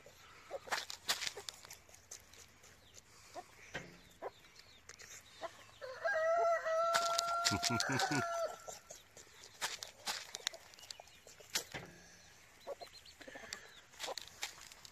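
Backyard chickens, including young chicks settling in for the evening, cluck and squawk in short scattered bursts, with a louder drawn-out call in the middle, heard fairly close outdoors.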